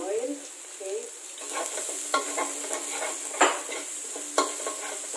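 Garlic sizzles and fries steadily in olive oil in a pan, a continuous hiss with a few louder stirring clinks and scrapes of a utensil against the pan.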